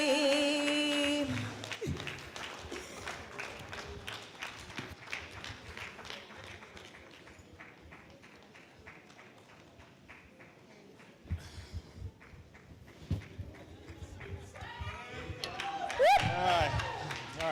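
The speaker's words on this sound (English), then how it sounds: "Please keep clapping till Etty gets here." Audience clapping at a book launch, applause fading from a fairly loud patter into scattered claps as voices murmur and talk over it, then rising again near the end.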